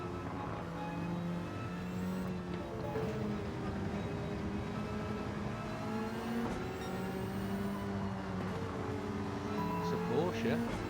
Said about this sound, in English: Car sounds beautiful on the overrun.